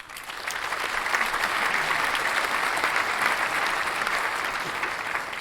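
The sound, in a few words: round of applause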